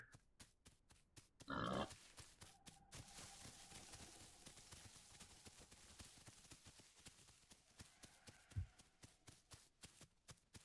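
A pig grunts in a video game, one low grunt standing out near the end, against a steady run of rhythmic, hoof-like footsteps and a faint sustained tone.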